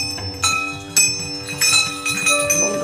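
A Hindu temple bell rings with bright, metallic strikes, several clear hits in quick succession with lingering shimmering tones.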